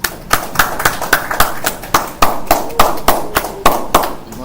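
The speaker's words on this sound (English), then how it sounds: "Let us give a round of applause to our termites" A small audience at a school research proposal presentation claps for the presenting group, heard as distinct, fairly loud sharp claps in an uneven rhythm, roughly a dozen strikes spread over several seconds.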